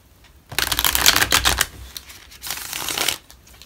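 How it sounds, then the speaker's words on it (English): Two quick bursts of tarot cards being shuffled, a dense papery riffle up close, followed by a softer second flurry, with no speech. "One more shuffle."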